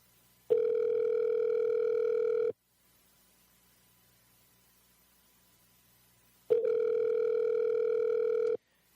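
Skype outgoing call ringback while waiting for an answer, two long steady electronic tones about two seconds each, separated by four seconds of silence, clean and moderately loud with no voices.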